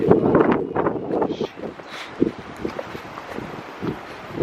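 Gusty wind buffeting the microphone in uneven rumbling bursts, with some rustling noise, fairly close and loud.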